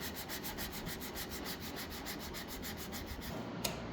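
A Shinto saw file rasps back and forth across a wooden guitar neck heel, carving and shaping it in steady, rapid rhythmic strokes that continue unbroken and close up, with no talk.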